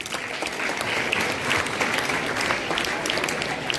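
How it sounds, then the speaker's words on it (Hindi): Lively applause from a school audience at a Swami Dayanand Saraswati Jayanti speech event, dense clapping close by and steady throughout, with a few voices mixed in. "दयानंद वाली ताली, सुंदर वाली ताली।"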